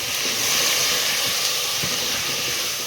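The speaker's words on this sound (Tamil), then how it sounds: "அந்த எண்ணெயிலே அந்த காயெல்லாம் நான் கொஞ்சம் பாதி வந்துடும் ஃப்ரெண்ட்ஸ். அதிலே போட்டு வதக்குங்க." Brinjal, drumstick and raw mango sauté in hot oil for a sambar, giving a steady, loud hiss and sizzle with faint scraping, no talk.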